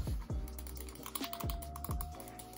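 Short bursts of key clicks on a computer keyboard, close and fairly quiet, several presses in an uneven rhythm.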